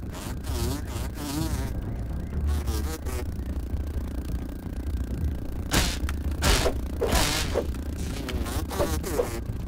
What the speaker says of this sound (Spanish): El problema es que es muy rápido el puto mosquito.